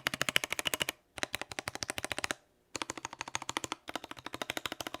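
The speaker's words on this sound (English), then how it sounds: "we're gonna test out the stabilizers" Rapid, rattling bursts of keypresses on an Akko PC75B Plus 75% mechanical keyboard as its stabilized keys are tested, loud, close and evenly spaced, stopping twice briefly between runs, with no talk.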